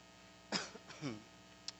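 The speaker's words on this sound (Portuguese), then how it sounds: "Peço desculpa pela tosse, hoje estou com uma tosse, aquela tossezinha chata." A couple of short, quiet coughs in a small room, followed by a faint brief click.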